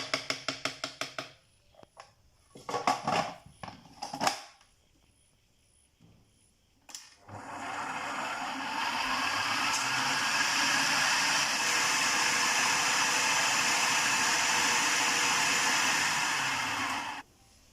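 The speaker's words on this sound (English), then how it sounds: "I'll whisk again to get it very fluffy" An electric whisk whips almond and coconut batter for keto koose, starting after a few seconds of knocks and clatter, then running as a loud, steady whir for about ten seconds before stopping.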